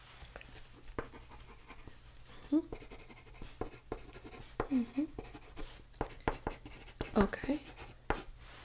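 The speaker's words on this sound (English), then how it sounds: "Do you mind if I write this down?" A pen scratches on paper in short bursts of writing, close and clear, while a soft voice speaks intermittently between strokes during a calm exam-style consultation.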